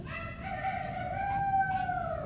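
A person imitates a rooster crowing, a long rising-and-falling cock-a-doodle-doo call sustained for about two seconds over a low background rumble.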